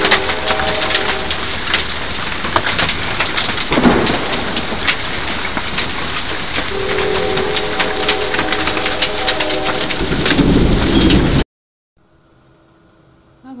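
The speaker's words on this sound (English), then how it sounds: "We've got some serious hail going on here." Heavy hail clatters down during a storm in a steady, loud, dense roar of impacts that lasts about eleven seconds and then cuts off abruptly to near silence.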